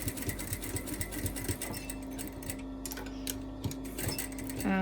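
A sewing machine stitching fabric for a doll, a close, steady rapid whirring and ticking with a few louder clunks, running continuously without talk.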